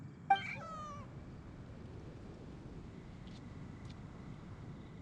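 A cat meows once, clear and fairly close, in a video game hangout scene, followed by faint wind-like ambience and a couple of soft distant ticks with no one talking.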